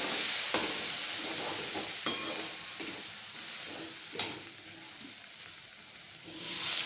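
Papad and poha mixture stirred gently in a frying pan, a soft steady sizzle with a few sharp scrapes of the spoon, fairly quiet and close.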